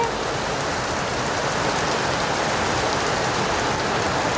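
Steady rain pours down in a dense, even hiss without a break, loud and close, during a hot night at home where buckets and bowls catch the leaks.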